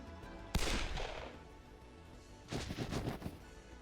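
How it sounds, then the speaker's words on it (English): Gunfire in the video game Hakuoki: one sharp, loud shot with a ringing tail, then after a pause a rapid burst of several shots close together. "All of the constant noise from the gunfire made my ears ring, and Sakamoto-san looked down at me."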